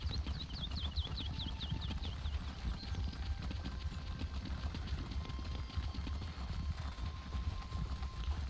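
Steady clip-clop of horse hooves while riding in the video game Elder Scrolls Online, a brisk even gallop rhythm carrying on throughout, close and moderately loud with faint ambient game sounds behind.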